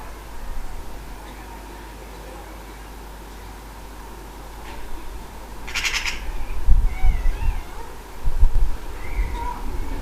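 Magpies mobbing a cat with harsh chattering calls in the middle of the clip, over steady background noise and low rumbling.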